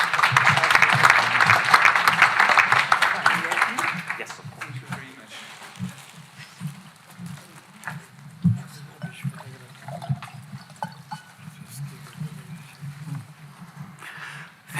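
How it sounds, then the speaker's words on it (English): An audience at an honorary doctorate ceremony applauds, with dense clapping for about four seconds that then thins into scattered claps and rustling, with a few low voices. "Please welcome him with an applause."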